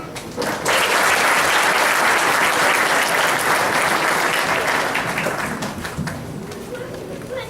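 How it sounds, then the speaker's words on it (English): Audience applause at a Muslim community council event welcoming a Montgomery County councilman: full, loud clapping swells in after a brief start, holds steady, then slowly thins toward the end. "please, another round of applause"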